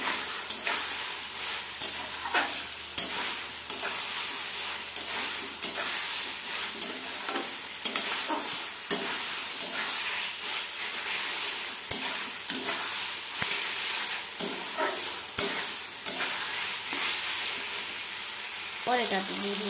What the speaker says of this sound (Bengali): এটাকে মশলার সাথে ভালো করে মিশিয়ে নেব।